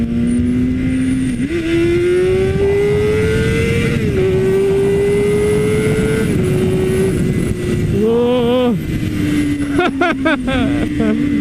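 BMW S1000RR motorcycle accelerating hard, a loud, close engine note climbing steadily in pitch, dropping briefly at each gear change and rising again, with wind roar underneath.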